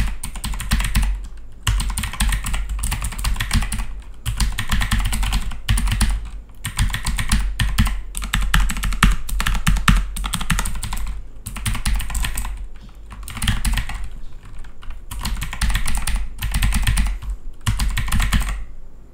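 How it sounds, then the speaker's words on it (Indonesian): Fast, continuous clatter of keystrokes on a computer keyboard during a typing test at a gaming PC setup, coming in dense bursts with brief pauses between them, close and clear with no speech. "Okey, lah ni kita typing test pula. Masih guna keyboard yang sama macam tadi."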